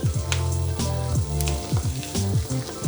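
Broccoli rabe sizzles and crackles in a pan with browned garlic, a loud steady frying hiss with bursts of pops, close by and with no talking.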